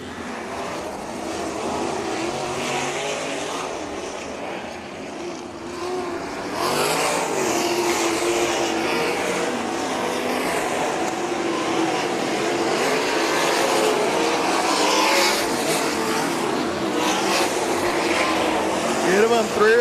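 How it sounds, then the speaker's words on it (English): Outlaw sprint cars race laps on the high-banked Heart O' Texas Speedway, engines howling in a continuous loud drone that swells as the pack passes, with an announcer talking over it. "16 cars, 15 laps around the high banks of Heart of Texas Speedway."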